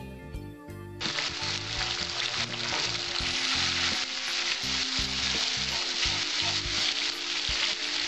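Chili paste, ginger paste and turmeric hit a hot pan with a sudden loud sizzle after a brief quiet start, then fry steadily with a dense, even hiss under occasional low clatter for Bengali daler borar dalna.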